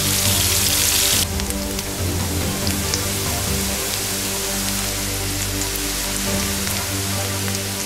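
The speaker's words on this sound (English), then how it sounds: "I'm going to saute both of these for about 6 to 8 minutes and then set them aside." Mushrooms sauté in butter and olive oil with a loud, even, hissing sizzle like rain, strongest in the first second and then holding steady over a faint low hum.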